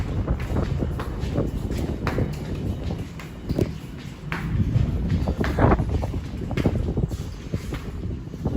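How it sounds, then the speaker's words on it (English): Strong wind buffets the open deck of the Royal Caribbean cruise ship Spectrum of the Seas at sea around 1 AM, a loud, continuous roar and rumble of gusts against the microphone, with faint footsteps underneath. "Oh, it's really windy."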